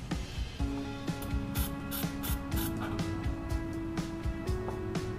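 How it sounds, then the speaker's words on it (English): Stiff brush scrubbing at a rusty brake bleeder screw on an 04 Chevrolet Silverado, a steady run of close, gritty rubbing strokes mixed with faint metallic ticks, no talking. "get my brush in there and scrub that off"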